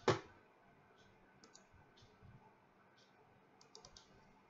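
Mouse clicks and keyboard taps while drawing a diagram in StarUML: one sharp click at the start, then light scattered clicks and short taps, faint and close, with no talk.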